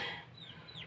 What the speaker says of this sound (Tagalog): Mga manok guys. Mga chicken.